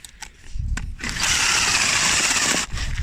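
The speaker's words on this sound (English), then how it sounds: "then we're going to drill down there" A power drill bores into a log in the woods to make a Swedish fire torch. A few quick clicks come first, then a loud, close, grinding whir runs steadily for about a second and a half before cutting off.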